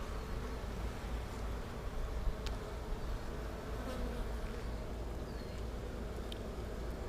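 Honey bees buzz in a dense, continuous drone during a hive inspection, with an occasional clearer buzz as a single bee passes close by.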